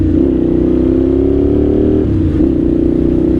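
A 1998 Suzuki TL1000R V-twin motorcycle engine revs under riding load, a loud close droning tone that climbs steadily, drops sharply for a shift, then picks up again.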